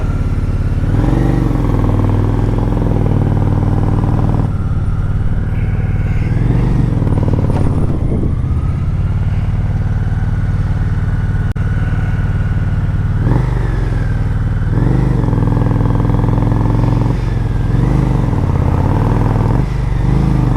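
Motorcycle cruising on a road, its engine a steady loud drone with rising and falling pitch as the rider shifts and accelerates, wind rush throughout and a brief lull near the middle.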